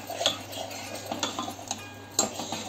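Tomatoes sautéing in a pan, with intermittent utensil clinks and scrapes against the pan over a low, steady background hiss.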